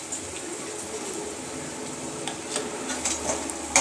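Ginger-garlic paste is stirred into cauliflower curry in a pan: a steady, soft sizzle with faint scraping and light clinks toward the end, and no voices.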